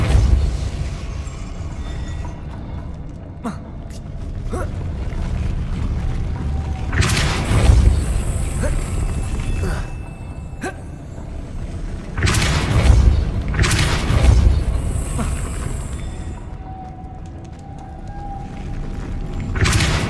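Depulso spell blasts in Hogwarts Legacy, heard as several deep booming bursts a few seconds apart over a low, rumbling game ambience with mechanical clanks.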